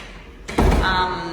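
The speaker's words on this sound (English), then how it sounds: "Just going to shut the front door." The front door of a 1930s Sydney house swings shut in the hallway with a single solid thud and a short rattling ring-out, close and fairly loud against a quiet room.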